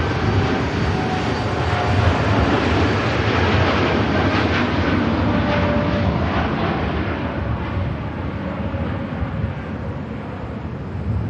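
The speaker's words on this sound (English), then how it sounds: "Dreamliner on the takeoff roll" A Boeing Dreamliner jet rolls down the runway on takeoff at Manchester Airport, a steady, loud, broad engine roar that holds for the whole stretch and eases slightly toward the end.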